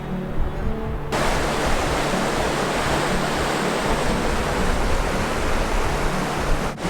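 White water rapids in a mountain stream in Padjelanta, Sweden, roar in a loud, steady, unbroken rush that swells in after a moment and holds without any voices.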